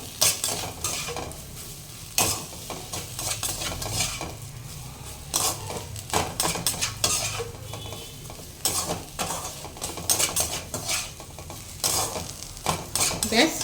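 Mughlai paratha filling with chopped onion and coriander is stirred in a pan, with repeated close scraping and clinking of a utensil against metal over a faint, steady sizzle.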